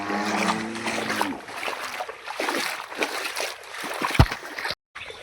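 Rainwater flows in from two sides and meets in a village lane in Mandropur after a heavy downpour, a steady close rush and gurgle with small splashes and one sharp splash near the end.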